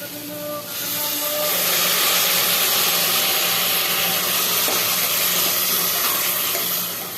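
Water poured into a hot pan of eggplant curry with coconut-garlic paste, a loud rushing hiss and sputter that rises sharply and holds for several seconds before easing off, with no voices.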